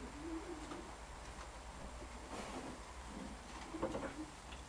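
Paired racing pigeons coo softly in a loft, a few low, faint warbling calls spaced over quiet background hiss, with one slightly stronger cooing phrase near the end; no talking.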